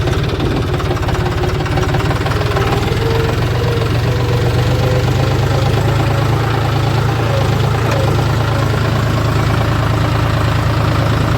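A heavy diesel loader engine runs loud and close, a steady low rumble with knocking throb that holds unchanged throughout.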